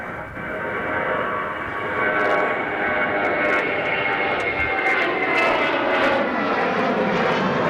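A Jetstar jet airliner arriving from Melbourne passes at Adelaide Airport, its engines a broad, sustained roar that stays loud and steady throughout with a faint whine above it, and no voices.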